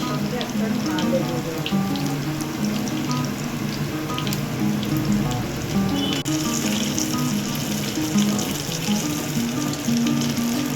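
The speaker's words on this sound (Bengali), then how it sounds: "এখন এই উপকরণগুলিকে করে করে ভাজতে হবে" Steady crackling sizzle of banana blossom and chicken patty ingredients frying in a pan, continuous and close, with clattering kitchen sounds mixed in and no talking.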